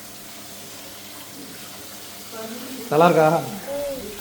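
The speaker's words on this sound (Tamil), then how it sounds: "சுகமாக அவனுக்கு ஹேர் வாஷ் பண்ணிகிட்டு இருக்கிறாங்க" Water running from a tap during a salon hair wash in Bangalore, a faint steady hiss with a voice speaking briefly over it.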